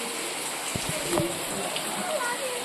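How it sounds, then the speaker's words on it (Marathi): Steady rain falls during Ganesh festival decorating at home, a constant hiss of drops with some brief splashes, while people talk softly in the background. "पाऊस पण खूप पडतोय"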